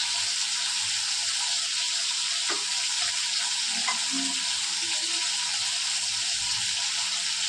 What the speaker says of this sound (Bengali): বেশি কড়া করবো না, হালকা হালকা করেই ভাজবো।